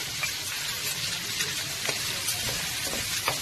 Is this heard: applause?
no